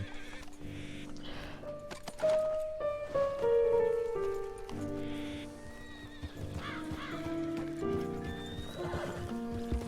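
A horse in the western roleplay game RedM whinnies loudly while hooves clip-clop steadily nearby, with rain pattering in the background.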